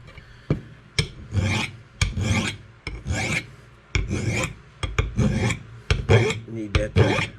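A hand file rasps on an old USGI axe head in repeated strokes, each a harsh, close scraping push separated by short pauses, loud and with no talk.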